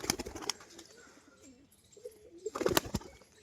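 Soft, low pigeon cooing rolls along quietly, with a few sharp clicks and rustles at the start and near the end.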